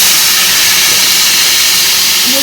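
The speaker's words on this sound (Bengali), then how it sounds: "আর দেখো আলু ভাজা হয়ে গেছে, এবার পুঁই শাক দেবো" Malabar spinach being added to a pan of fried potatoes, giving a steady loud sizzle and hiss throughout with no pauses.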